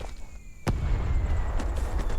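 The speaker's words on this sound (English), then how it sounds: "Worst mortar strike of 2022." A mortar strike lands during Vigor, a survival shooter game, as a single sharp blast followed by a rumbling, crackling tail and scattered fainter pops, heard alone without talk.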